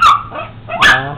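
A dog confronting a chicken lets out two close, loud barks in quick succession with a short yip-like tail between them.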